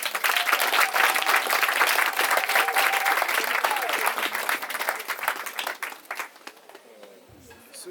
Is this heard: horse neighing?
no